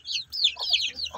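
Chickens cluck in quick, close bursts, several short calls overlapping one another in a backyard flock of thirteen young birds, loud and clear with no talk.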